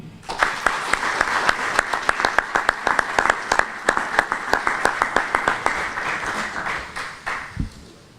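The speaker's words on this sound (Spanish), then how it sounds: "ese aplauso para todos y cada uno de los integrantes de la plataforma" Steady applause from an audience at an energy transition conference on La Palma, with a few louder individual claps standing out over the wash of hands, fading away at the end.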